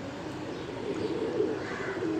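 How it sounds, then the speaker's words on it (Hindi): A Jackson pigeon coos in a soft, repeated low call, close and steady, with no talking. "ये है भाई जन मेरा जैक्सन कबूतर, बहुत आला।"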